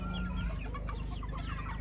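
Farm chickens cluck steadily nearby, a busy overlapping chatter of short calls over a low constant hum.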